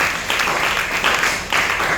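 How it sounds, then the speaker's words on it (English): An audience at a workshop on ending poverty applauds, producing dense, continuous clapping that stays loud and even throughout, with no talking over it. "A round of applause for you, please."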